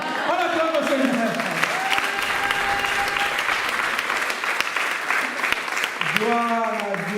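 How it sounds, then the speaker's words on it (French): A church congregation claps loudly and steadily in praise of the Lord, sustained applause with voices calling out over it at the start and end. "On acclame le Seigneur."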